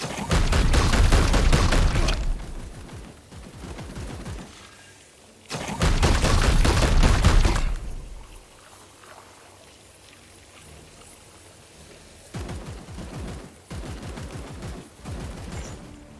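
Blessed Harrow Arms unload in Warhammer 40k: Chaos Gate Daemonhunters in two loud, dense bursts of rapid fire, each lasting about two seconds, followed by quieter rattling volleys and scattered debris-like clatter.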